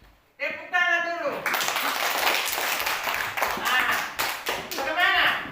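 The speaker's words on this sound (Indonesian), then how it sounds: "Tepuk tangan dulu." Schoolchildren in an elementary classroom clap together in a short rhythmic patterned cheer, close and loud, with children's voices calling out over the claps.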